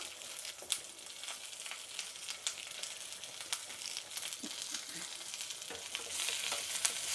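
Freshly picked curry leaves sizzle and crackle in hot oil, a steady hiss with scattered pops and stirring scrapes that grows a little louder toward the end.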